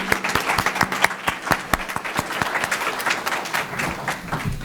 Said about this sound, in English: Another round of applause, please, for our panelists